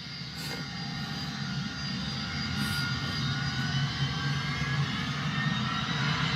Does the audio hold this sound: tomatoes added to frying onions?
no